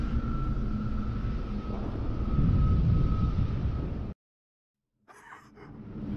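A Covenant Phantom dropship from Halo comes in to land with a loud, steady roar and whine for about four seconds, then cuts to silence before a softer rumble returns.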